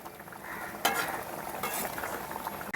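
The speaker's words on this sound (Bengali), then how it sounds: "আবারও ভালো করে ঝোলটাকে ফুটিয়ে নেব।" Mustard pabda fish curry gravy simmers in a pan with green chillies, giving a steady soft bubbling and sizzling at low level with a couple of brief clinks. No talk is heard.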